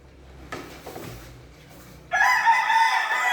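A backyard rooster crows once, loud and close, after a few soft clucks and rustling from hens.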